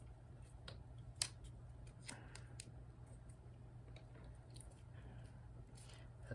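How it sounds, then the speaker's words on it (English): Scissors snip off excess paracord on a tabletop while a flogger is being made, giving a few faint, sharp clicks and crunches over a low steady hum, with no talking. "Now, the scissors cut off the excess."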